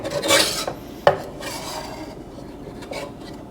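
Lobster shells are crushed and ground for bisque, making gritty rasping and scraping with a sharp crack near the start, then softer, fainter grinding that fades out, close by and with no voices.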